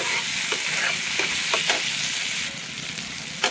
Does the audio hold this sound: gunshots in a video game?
no